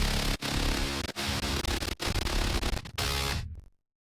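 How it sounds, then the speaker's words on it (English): A guitar synth ring modulated by a sub bass growls in a dense, harsh, distorted wall of sound, loud and close, broken by brief choppy gaps before cutting off abruptly into silence, with no talking. "so the guitar is being ring modulated by the sub."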